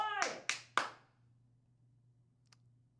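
Three sharp hand claps ring out in quick succession to welcome a co-host on a wrestling review show, followed by near silence and a faint tap.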